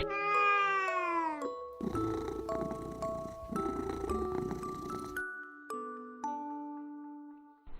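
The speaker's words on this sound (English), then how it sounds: "C is for cat." A cartoon cat meows several times in clear, drawn-out calls, set over bright chiming music and tinkling effects in a children's alphabet lesson.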